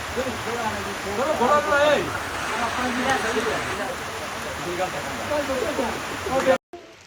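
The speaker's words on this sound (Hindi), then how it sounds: "बारिश का समय इस वक्त" Steady rain and rushing stream water in a mountain valley, a dense broadband wash filling the scene, with a voice talking over it.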